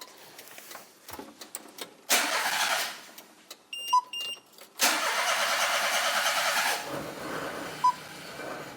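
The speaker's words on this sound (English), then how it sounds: "you turn the key for the first time, and it gloriously bursts into life" A JDM Daihatsu Midget with no fuel is cranked on the key in two loud bursts of engine noise of a few seconds each, separated by short electronic beeps and quieter clicks and handling noise.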